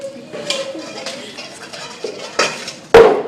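Mixing bowls being handled in a kitchen while making beignets, with several light clinks and knocks of bowls and utensils and a sharp clatter near the end, fairly close.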